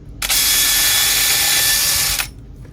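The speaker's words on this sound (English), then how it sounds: "So I'll go ahead and simply just drill a 3mm hole." A power drill with a cheap Harbor Freight metric bit bores a 3mm hole in plastic, one loud continuous whine lasting about two seconds close up, starting and stopping abruptly.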